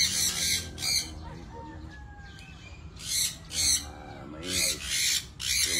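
Loud, harsh chicken squawks burst out in several separate bouts, with quieter clucking and background noise in between.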